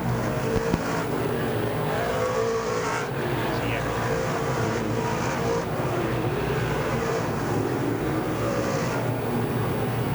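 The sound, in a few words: DIRTcar 358 race cars racing on dirt speedway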